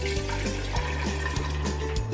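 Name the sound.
pouring water into a jar for tepache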